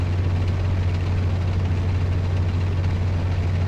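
A helicopter in the tank-combat game Steel Beasts gives off a loud, continuous low engine and rotor rumble with broadband roar, steady throughout and with no voices.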